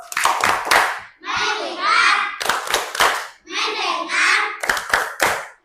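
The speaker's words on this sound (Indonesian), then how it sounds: "mari kita sama-sama tepuk fokus" A class of fourth-grade pupils performs a rhythmic 'tepuk fokus' clapping routine, sharp bursts of quick claps alternating with the children's chanted voices in a set pattern, loud and close in a classroom.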